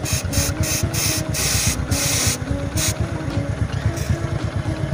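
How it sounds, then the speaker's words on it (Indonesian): Ishina Heavy Duty chain lube is sprayed from an aerosol can onto a motorcycle's gear sprocket, several close hissing bursts of uneven length over a steady low pulsing rumble. "Nah sekarang kita semprot di bagian area gear teman-teman."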